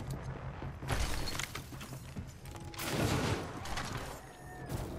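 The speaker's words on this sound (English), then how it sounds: "These guys probably aren't gonna notice if I use a zipline." Ziplining in the video game Apex Legends, a continuous mechanical whirring and ratcheting rattle of the line that swells and fades over several seconds, mixed with game sounds.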